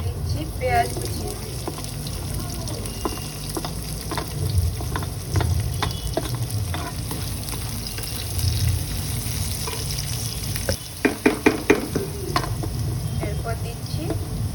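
Chopped ginger, garlic and onion frying in a pan for pasta. A steady crackling sizzle runs under a talking voice, with a quick burst of clattering near the end.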